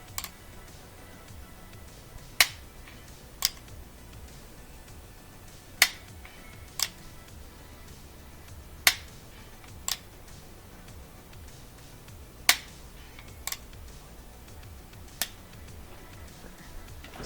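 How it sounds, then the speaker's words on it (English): Dry-fire training kit producing simulated metal target hit sounds: sharp, isolated clicks spaced a few seconds apart, about ten in all, crisp and fairly close against a quiet room background with no talking. "You can hear it hitting. It's kind of fun, like you're hitting a metal target."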